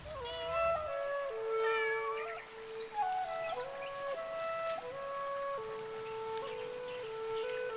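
A video-game cat meows in a long, tonal, sing-song run of calls that steps up and down in pitch, loud and close, sounding alone with no talk over it.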